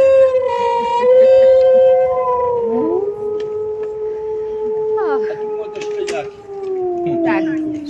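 Wolf pups howl in long, wavering, overlapping tones that rise and fall, sustained and close, several voices together, in Bielsko-Biała.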